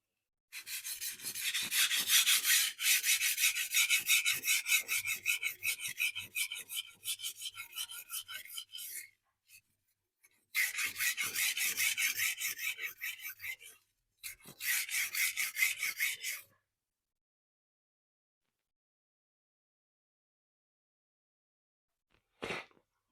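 A carbon-clad Nasu Bunka knife is stroked back and forth on a whetstone, producing rapid rhythmic rasping scrapes in close, loud bursts separated by pauses, followed by a long silence and one brief final scrape.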